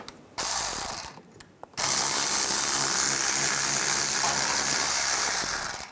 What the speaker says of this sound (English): with the drain bucket underneath, we're gonna take this bolt out.